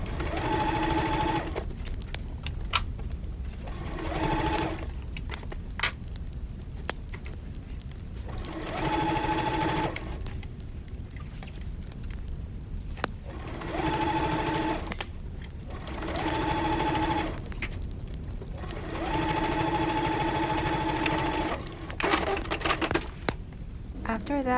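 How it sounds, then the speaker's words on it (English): A sewing machine stitches along the crease of bias tape on a shirt-turned-blouse project in about six steady whirring bursts of a few seconds each, separated by pauses with quiet clicks, heard close and alone. "Now I am going to stitch along the crease of the bias tape"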